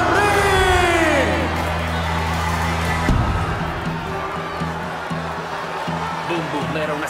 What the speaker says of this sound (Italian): Un applauso per Bobby Ledoux, l'autore del ring